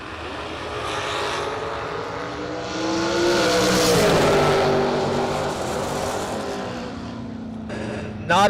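A dragster in a drag race roars off the line and screams down the strip, a loud sustained engine howl that swells and then fades, with an announcer talking over it.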